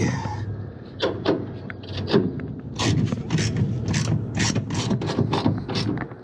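A wrench ratchets in repeated rapid clicking bursts while tightening bolts on an HVAC blower motor mount, with scraping metal and faint background noise between strokes.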